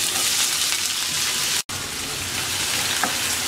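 Chopped onion sizzling in hot oil in a pan with cumin, radhuni and a bay leaf for lentils with bottle gourd, a steady close crackling fry with one brief cut, no talking.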